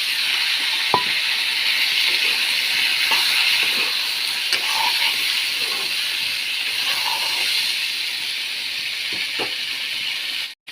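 Potatoes fry with pork in a pan, giving a continuous sizzling hiss with occasional soft pops and stirring clinks, fairly close and steady throughout.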